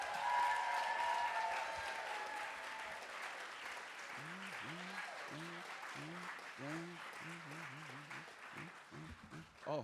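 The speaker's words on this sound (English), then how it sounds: "can we please just give them a round of applause?" An audience at a youth poetry slam finals on a performance stage applauds, the clapping fading gradually while people talk and call out over it in the second half.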